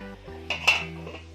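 A lid set onto a cooking pot of paneer and potato curry: two quick, close metallic clanks in succession with a brief ringing tail, otherwise quiet.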